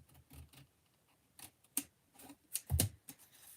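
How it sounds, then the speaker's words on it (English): Scissors snip through card along a score line in a quiet room, a series of crisp, close cuts coming in irregular bursts. "So you simply cut along the score line there,"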